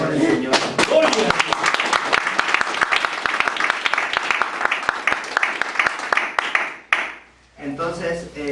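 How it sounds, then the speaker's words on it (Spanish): A church congregation at a Spanish-language service bursts into sustained applause, many hands clapping loudly for several seconds with voices mixed in, then it tapers off and speech begins. "Un aplauso para el Señor."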